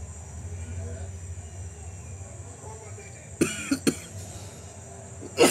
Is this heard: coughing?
yes